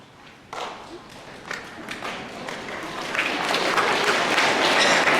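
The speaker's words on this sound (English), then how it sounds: "Please hold your applause, please, to the very end." An audience at a school veterans' assembly breaks into applause that starts as scattered claps and taps, then swells into a dense, steady wash of many hands growing louder toward the end.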